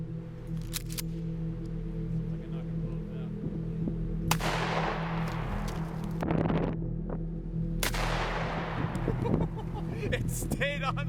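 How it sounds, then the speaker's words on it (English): Guns fire in a few sharp, loud blasts spaced several seconds apart, each followed by a brief rumbling decay, over constant low background hum and indistinct voices. "It's very creepy to see Randy having so much fun shooting these weapons"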